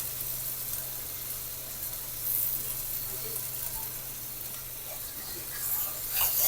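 A spice paste for a loitta dried-fish curry with eggplant and potato sizzles steadily as it fries and is stirred in a pan, a faint continuous hiss that swells slightly at moments, with no voices.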